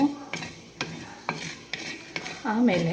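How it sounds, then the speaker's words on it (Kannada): Fish curry masala fries on a low flame while a spoon stirs it, giving steady sizzling broken by about six sharp scrapes against the pan. The sound is close, and one short spoken word comes near the start. "ಈಗ ಉರಿಯನ್ನು ಕಡಿಮೆ ಇಡಬೇಕು, ಲೋ ಫ್ಲೇಮಲ್ಲಿಟ್ಟು ಫ್ರೈ ಮಾಡಬೇಕು."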